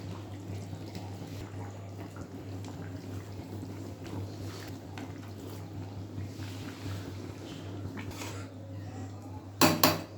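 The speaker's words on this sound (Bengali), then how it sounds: "এবার আমি ভেজে রাখা পনিরগুলো দিয়ে দেবো" Fried paneer pieces added to a cooking pot of boiled potatoes, with faint utensil clinks over a steady low hum and a sharper metallic clatter near the end.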